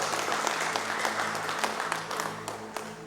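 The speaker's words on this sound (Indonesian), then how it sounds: "Halo, tepuk tangan untuk Tuhan dong." A church congregation at a Sunday worship service claps continuously in a sustained round of applause, a dense steady patter of many hands filling the room with no voices over it.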